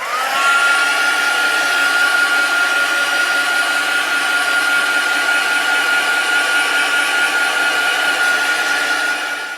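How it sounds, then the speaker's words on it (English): A heat gun runs continuously to dry paint on a journal page, a loud, steady close-up blowing whine with a fixed tone that lasts throughout. "let's just put my heat gun on and just dry off that first colour"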